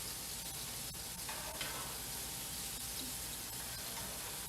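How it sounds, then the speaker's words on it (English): Onions sizzling in a frying pan alongside browning apples for a pork tenderloin dish; a soft, continuous hiss with faint scrapes and clinks heard from a moderate distance. "I'm going to get my onions in there now."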